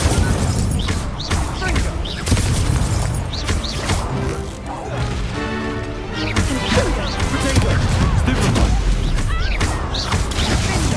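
Fire spells cast again and again in Hogwarts Legacy, with booming crashes and impact bursts in a loud, busy game mix that runs throughout.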